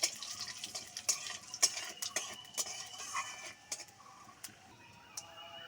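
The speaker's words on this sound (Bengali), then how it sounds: "এবার আমি ফোড়নে দিয়ে দিচ্ছি একটা শুকনো লঙ্কা আর রাঁধুনি।" Dried red chili and radhuni seeds tempering in hot oil for a pumpkin-greens ghonto, a faint sizzle under a string of sharp spoon-and-pan clinks and stirring scrapes, close by.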